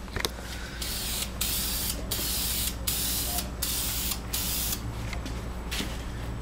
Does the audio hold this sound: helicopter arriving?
no